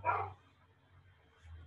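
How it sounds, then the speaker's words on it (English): A dog barks sharply once, fairly loud and close, during an indoor portrait drawing workshop, followed by softer low whimpering and a faint second bark-like sound near the end. "I apologize for the dog."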